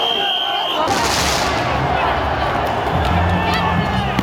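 Fireworks thrown by protesters during street clashes between students and mounted police at Parliament Square in London, heard as sharp bangs inside a continuous roar of crowd noise and shouting.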